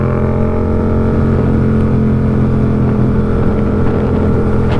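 A 2021-model motorcycle in very good condition runs at a steady idle, its engine giving a loud, even, continuous drone with strong low harmonics and no speech.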